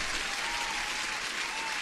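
Dense, sustained applause from a crowd, loud and even throughout with no pauses.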